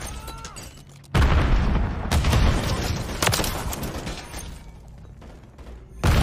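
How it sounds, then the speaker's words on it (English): Flash grenades go off during Call of Duty MW3 gameplay on Xbox Series X, as a sudden loud burst of booming blasts and crackling gunfire that stays dense for about five seconds before a second hit. "Throwing flash grenades!"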